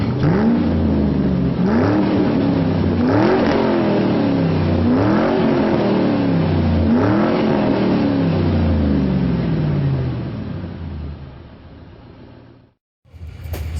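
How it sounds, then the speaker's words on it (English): A 1964 Chevelle station wagon's engine revs hard at Atlanta Dragway in Commerce, Georgia, loud and close, climbing through repeated rising sweeps for about ten seconds before easing off, dropping out briefly, then returning. "to take my 64 Chevelle station wagon down the racetrack at the track that I consider my home track"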